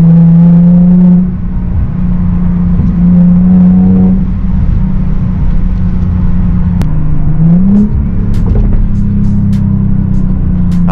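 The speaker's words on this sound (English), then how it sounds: "I love the downshifts on this car" A supercharged Audi A7 making about 400 horsepower at the wheels revs and downshifts, a loud close engine drone that climbs and drops in pitch several times, followed by sharp crackling pops toward the end.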